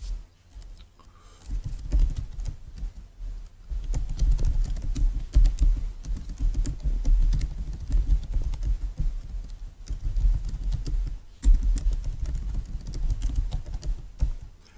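Steady typing on a computer keyboard, with quick runs of key clicks and brief pauses between words, close and moderately loud, with no voices.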